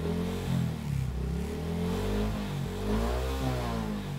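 A Suzuki Raider J FI 115 motorcycle engine with tapped wiring and a discharge problem is revved in a workshop, a loud, close, buzzing idle that swells and falls through several throttle blips with no voices.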